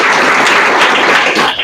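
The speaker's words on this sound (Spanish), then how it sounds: "ahora un aplauso a Horacio." An audience applauds at a live event, a dense burst of clapping that stays steady and fades slightly at the end.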